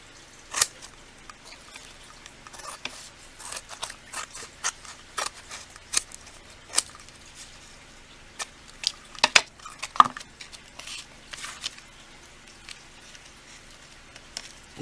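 Scissors trimming material on a mixed-media altered box: scattered light snips and small clicks, close but quiet, irregularly spaced and alone.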